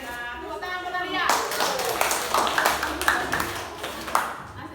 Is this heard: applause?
yes